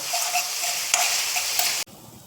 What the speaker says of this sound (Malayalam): നമ്മുടെ ഉള്ളിയും മുളകുമൊക്കെ നല്ല വഴന്ന് ഡ്രൈ ആയി വന്നിട്ടുണ്ട്